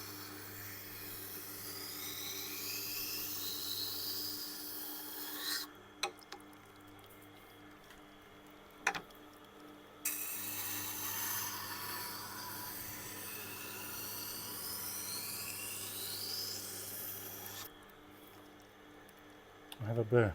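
A ceramic knife is sharpened on a Tormek Tiger Stone 4000 grit wheel, giving a soft wet rubbing hiss in long strokes broken by pauses and a few clicks, with quiet talk in places.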